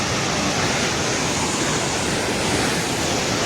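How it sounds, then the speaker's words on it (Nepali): The swollen Trishuli River in flood rushes past nearby, a loud, unbroken roar of churning water with no voices. "पानी नजिक आइसकेको छ"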